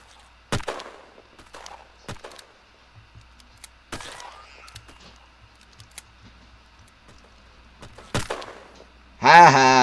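Sporadic gunshots in the egg-themed online shooter game Shell Shockers, several sharp isolated cracks spaced seconds apart, with quieter clicks between them and a louder tonal burst at the end.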